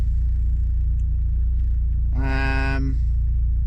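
A Vauxhall Corsa on the move sends a constant low engine rumble through the cabin, with a short rising whine partway through and no speech.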